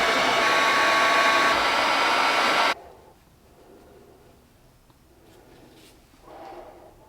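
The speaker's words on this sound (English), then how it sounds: "I gotta get my heat gun out so that I can get that rim right there inside the bottom of this tube" A heat gun blows loudly and steadily for a few seconds while softening a plastic tube, then cuts off, leaving quiet handling sounds of the plastic.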